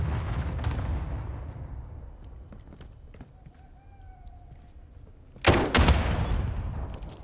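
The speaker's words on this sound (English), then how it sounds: "Receiving hostile fire" Hostile gunfire in Call of Duty: Modern Warfare comes as scattered sharp cracks over a low battlefield rumble, then a loud close burst of shots or explosions near the end.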